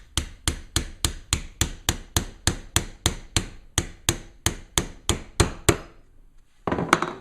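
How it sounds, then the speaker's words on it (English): Steel hammer striking a Phillips screwdriver to punch the grip pin out of a Ruger LCP .380 pistol, about eighteen sharp, evenly spaced metallic blows, close and loud, then a brief pause and a rougher scraping clatter. "I'm just going to stick that in the hole and hit it with the hammer and see if it comes out"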